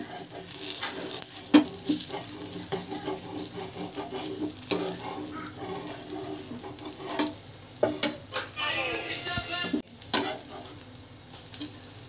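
Rava dosa cooking on a hot pan, a soft continuous sizzle broken by scraping and tapping of a spatula, with a few sharper clatters near the end and no voices.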